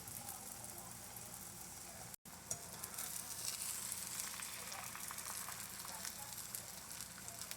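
Maple sausage frying in a pan at home, a dense steady sizzle with crackling pops, close and continuous apart from a momentary dropout early on.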